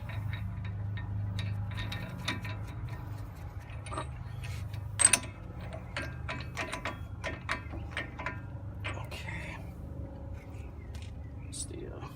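Ratchet snugging the wheel hub nut on a GM 4x4 truck during a front hub replacement, a steady run of short clicking bursts close by over a low background hum, with quiet talk in places.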